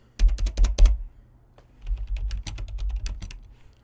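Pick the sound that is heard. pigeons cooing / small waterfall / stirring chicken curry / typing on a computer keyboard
typing on a computer keyboard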